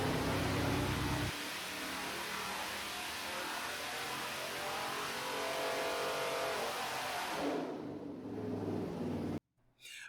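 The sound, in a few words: Pontiac 400 engine revving with Quick Fuel carburetor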